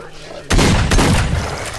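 Gunfire in S.T.A.L.K.E.R. Shadow of Chernobyl: a loud close shot bursting out of quiet, followed by a second blast and echoing rumble, with excited shouting over it.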